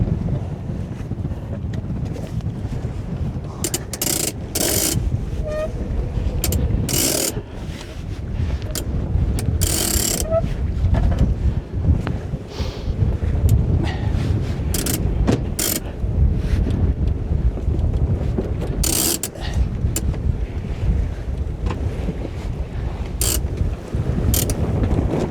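A sailboat winch ratchets in quick clicking bursts as the genoa is set during single-handed sailing, heard over loud, steady wind and water rushing past the microphone.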